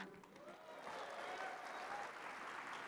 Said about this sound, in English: you will give them the loudest round of applause that we can